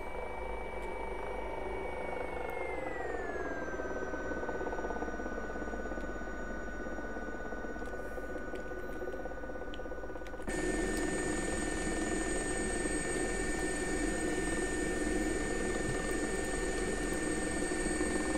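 An SA-342 air ambulance helicopter in the X-Plane 11 flight simulator, a steady rotor and turbine drone with a whine that dips in pitch, then a sudden louder, brighter cabin roar partway through, continuous and close.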